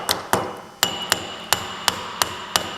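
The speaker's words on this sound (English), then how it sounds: "Snapping in, and I might just tap it a little bit to go the last." Hammer taps a new worm gear into place in John Deere steering: eight sharp metallic knocks, close and fairly loud, irregularly spaced, the later ones evenly paced, with no talk.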